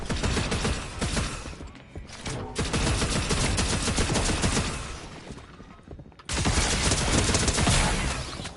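Rapid gunfire, including a shotgun, in the video game Fortnite: loud, dense bursts of shots in quick succession with short pauses, close and dominating.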